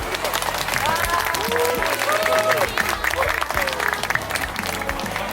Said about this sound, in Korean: 격려의 박수 한번